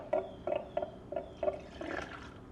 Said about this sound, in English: You'll hear it start bubbling over here.